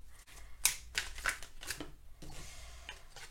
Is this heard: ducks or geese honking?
no